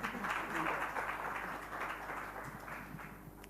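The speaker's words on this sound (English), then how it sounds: "Let's give a round of applause." Audience round of applause at a foundation launch held in a hotel, a broad wash of clapping that swells early and gradually thins out across a few seconds, heard at moderate distance with no voices.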